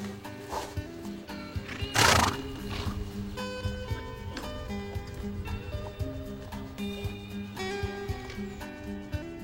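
Horses used for hippotherapy neigh in a paddock, with a loud close whinny partway through and other calls around it, mixed with clip-clop hoof steps and soft movement.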